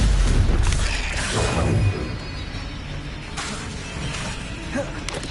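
The Stupefy spell cast in the video game Hogwarts Legacy bursts with a loud booming crash and shattering whoosh that fades over a couple of seconds, followed by lighter impacts.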